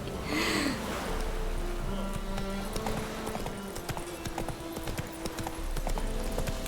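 A horse galloping in The Witcher 3, its clip-clop hooves a steady close rhythm with a brief neigh near the start, over game ambience.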